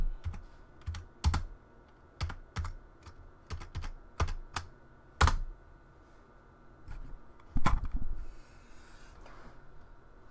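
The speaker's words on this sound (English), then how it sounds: "Type in my password" Someone types a password on a computer keyboard: a run of irregular, sharp key clicks close to the mic, a few louder strikes standing out, with quiet pauses between bursts and no speech.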